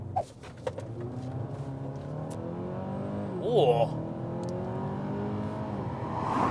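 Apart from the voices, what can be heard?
car sports exhaust while accelerating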